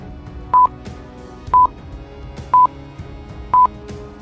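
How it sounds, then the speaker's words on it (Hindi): An incoming phone call signal made of four short, evenly spaced electronic beeps, about one second apart, sounds loud and clear over a faint background bed. "मेहुल के पास एक सीक्रेट कॉल आता है।"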